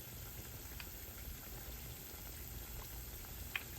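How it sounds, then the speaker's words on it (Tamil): Dry shrimp urid dal vadai fry in hot oil with a soft, steady bubbling sizzle, faint and continuous, broken by one tiny crackle near the end and no speech. "இப்போ இந்த வடையை பொரிய போட்டிருக்கிறேன்"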